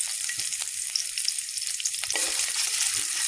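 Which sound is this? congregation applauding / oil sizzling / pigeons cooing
oil sizzling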